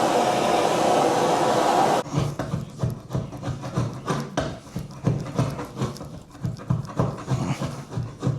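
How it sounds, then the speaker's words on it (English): A hot-air heat gun roars steadily at first, then gives way to rough, repeated scraping as a floor scraper works at stubborn old flooring during a removal job, close and loud throughout. "So I'm gonna try to heat it up and hit it with the floor scraper."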